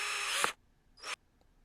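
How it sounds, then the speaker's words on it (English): A power drill whirs in two short bursts close by as it bores holes through a sketchbook cover, with a brief pause between them. "And we're drilling away."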